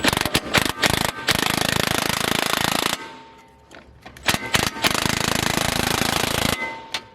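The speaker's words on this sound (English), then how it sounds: "grab your big old impact" A big impact wrench hammers nuts down on HSD coilover mounts on a WRX in two loud, rapid rattling bursts close by, with a brief quieter pause between them.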